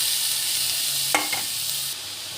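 Beetroot and green chillies frying in a pan give a steady, close hiss of sizzling oil, with a short scrape of stirring near the middle.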